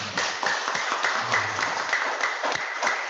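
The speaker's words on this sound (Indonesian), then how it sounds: "Tepuk tangan." An audience at an Islamic talk on drugs and prayer claps in a steady, rhythmic pattern, with loud, close hand claps throughout.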